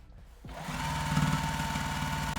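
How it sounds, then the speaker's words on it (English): A sewing machine stitches over the side seams of a True Bias Salida skirt, starting after a short pause and then running in a steady, fast mechanical whir close to the mic, alone without talk. "basically sew right on top of where I sewed the first time that I sewed these side seams"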